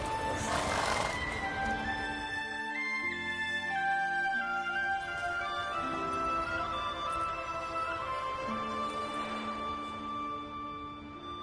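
Roach, a horse in the video game Witcher 3, whinnies twice amid layered game music, the neighs loud and near, one at the start and another late in the clip.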